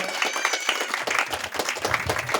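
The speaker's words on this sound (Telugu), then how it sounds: "గట్టిగా చప్పట్లు కొడదాం" An audience claps loudly and steadily at a gathering, dense overlapping applause sustained throughout with a faint murmur of voices underneath.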